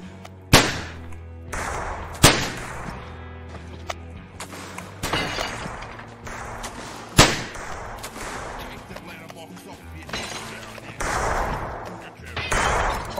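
Gunshots in a Ned Kelly video game, including rounds fired through windows: several sharp, loud reports spaced irregularly over shorter, quieter shots and a steady low game background.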